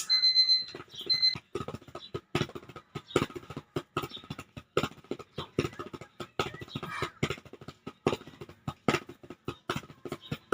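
A kitchen appliance timer gives a few short electronic beeps at the start. Then a long run of quick, sharp clicks and ticks follows in an irregular rhythm.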